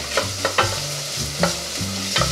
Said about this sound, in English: And then we're going to just give that a stir.